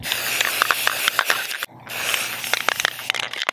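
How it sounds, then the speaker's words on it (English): An angle grinder tipping off the point of a homemade Hawaiian spear gaff, a harsh hissing grind with rapid ratcheting chatter, briefly cutting out midway and then resuming, close and loud. "Take the grinder, I'll tip that off."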